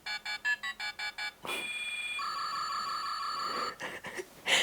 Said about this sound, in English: The phone's got like 5 different sounds it makes